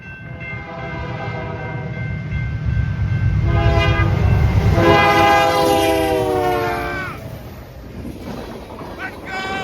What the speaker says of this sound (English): Yeah, it's a freight train!